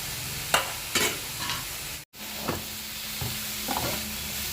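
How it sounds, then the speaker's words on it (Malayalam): Vegetables and finely chopped onion sauté for a vegetable soup, a close, steady sizzle with several spatula scrapes and a brief cut near the middle. "കുറച്ച് സവാള ചെറുതായിട്ട് നറുക്കിയതും കൂടിയിട്ട് വഴറ്റണം."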